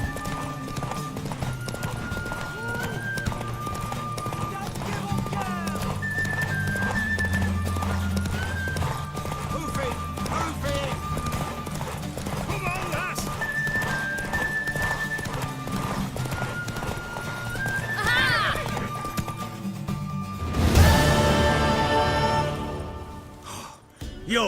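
A mare's hooves clip-clop in a steady galloping rhythm within The Witcher 3 video game, followed by a loud, close neigh near the end, with game music underneath.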